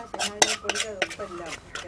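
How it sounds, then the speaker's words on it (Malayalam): Egg, yogurt and spice powder being mixed in a bowl, a spoon striking and scraping the sides in about six quick, close clinking strokes. "നല്ലവണ്ണം ഇത് മിക്സ് ചെയ്യണം എല്ലാം ആ മുട്ടയും തൈരും അതെല്ലാം കൂടെ ആ പൊടിയും"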